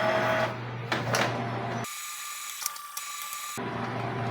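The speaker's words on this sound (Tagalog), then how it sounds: "Ayun na nga, nag-head cleaning na nga siya." A Canon G-series inkjet printer running its head cleaning cycle: a faint mechanical whir and hum that shifts through several stages, with a quieter stretch of soft ticks in the middle and no talk.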